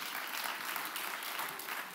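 A lecture audience applauds continuously for about two seconds, a fairly quiet, even wash of many hands clapping with no voices over it.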